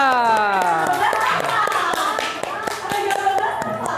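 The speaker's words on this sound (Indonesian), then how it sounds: "Sekali lagi, ya, semuanya kita tepuk tangan untuk kita semuanya." A group of people clap hands together during a class session, loud individual claps ringing out in a loose rhythm while someone speaks with a rising, drawn-out voice over them.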